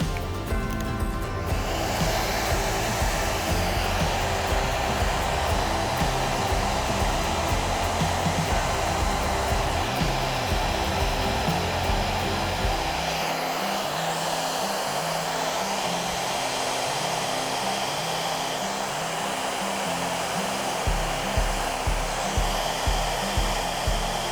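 Loud, continuous whooshing roar of a hair dryer blowing hot air close by onto a man's hair, its tone shifting slightly as it moves, running the whole time.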